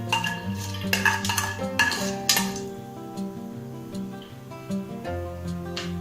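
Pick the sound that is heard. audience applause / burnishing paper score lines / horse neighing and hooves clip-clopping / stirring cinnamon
stirring cinnamon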